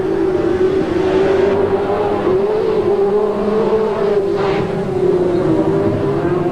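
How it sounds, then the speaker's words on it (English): Grand National sedan race cars racing on a track during a heat: a loud, continuous engine drone with a steady pitch and slight swells, heard without talk. "Ross Nicastri coming out of the clouds in the number 3 car"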